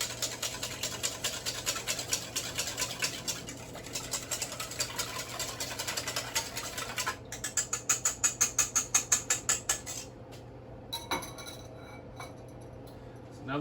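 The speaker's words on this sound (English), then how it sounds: "Take our whisk again and whisk those ingredients together." A whisk beating wet cooking ingredients in a bowl, rapid rhythmic metallic ticking against the bowl, close and moderately loud, slowing into a few distinct strokes before stopping.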